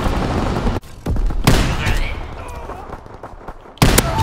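Bursts of aircraft ball-turret gunfire in a Call of Duty WWII free-for-all match, loud rapid volleys at the start and again near the end, with game noise and a brief gap between.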